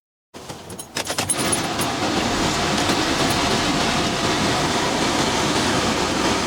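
A Mercedes Sprinter camper van's diesel engine cranks with a clattering start and settles into a steady, rough diesel rumble, loud and close, with no talking.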